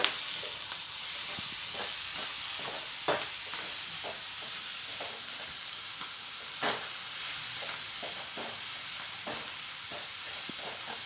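A vegetable curry, vanda bhaji, is stir-fried in a pan, giving a steady close sizzle and hiss with scattered clicks and scrapes from stirring, with no talking.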